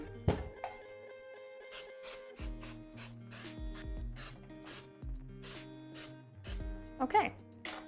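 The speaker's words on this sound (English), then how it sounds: "We can use some good old Pam. Spray it down." Pam cooking spray is sprayed into a pan for pumpkin bread, giving several short, airy hissing bursts close by over a steady tonal background, with someone speaking at times.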